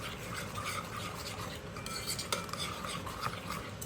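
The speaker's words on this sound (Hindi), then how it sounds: "अब इसको करेंगे फिर से मिक्स।" Chicken tikka marinade with vinegar being stirred and mixed in a bowl, with soft, continuous scraping of a utensil against the dish, faint and close.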